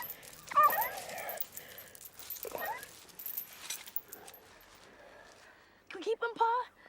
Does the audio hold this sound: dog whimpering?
yes